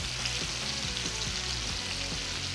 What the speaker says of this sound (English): Now you want to make sure that all the sides are seared.